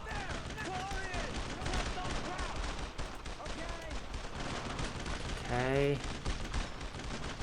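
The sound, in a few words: gunfire from video game Brothers in Arms: Road to Hill 30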